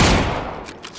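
A single loud sniper rifle shot in PUBG bursts at the very start, then its booming tail rolls off and fades over the following second.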